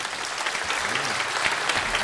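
Audience applause at an Estonian Republic anniversary award ceremony, a dense burst of clapping from a crowd, loud and steady for the whole stretch with no voices over it.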